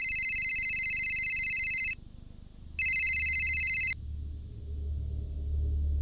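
An incoming call rings as a trilling electronic telephone tone in two bursts separated by a short pause, fairly clear over a low background rumble, then stops.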